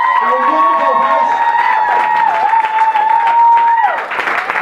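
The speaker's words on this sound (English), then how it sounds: "Let's have a big round of applause for all the comics you've seen tonight." Audience applause and cheering for the comedians at a stand-up comedy night, a steady, dense wash of clapping with a sustained musical tone running through it and a brief burst near the end.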